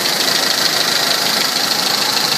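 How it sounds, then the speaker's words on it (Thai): A Honda Civic (big-eye model) idles quietly and steadily, giving an even, continuous engine hum with no revving, heard up close and alone. "สตาร์ทอยู่นะครับ เครื่อง เงียบกิบเลย"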